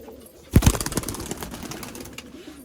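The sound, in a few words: Punjabi Malwai pigeons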